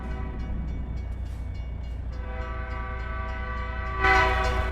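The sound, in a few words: train horn and passing train in American Truck Simulator video game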